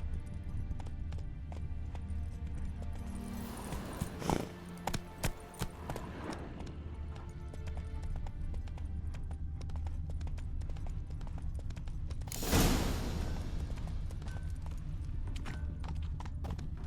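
A horse gallops through The Witcher 3 video game, its hooves pounding in a continuous, fairly close rhythm over a long stretch, with a few louder accented beats and a sharp burst partway through.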